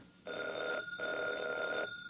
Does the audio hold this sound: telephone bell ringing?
yes